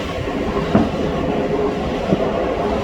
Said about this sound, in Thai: รถไฟมาเลย